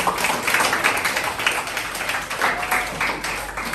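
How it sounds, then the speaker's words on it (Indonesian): A classroom of students claps together in a teaching session, with a brief, fairly close, steady patter of hands that pulses slightly. "Tepuk tangan buat kita."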